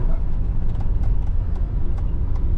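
A safari jeep engine that is running low on fuel chugs with a steady, loud, rough low rumble and faint uneven ticks throughout.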